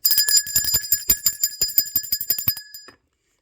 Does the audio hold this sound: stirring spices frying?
no